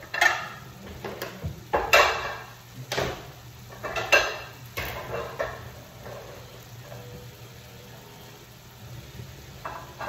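Plates and cutlery clatter as chicken in white wine sauce is plated, a run of sharp clinks and knocks in the first five seconds, then quieter handling sounds beneath a steady low kitchen hum.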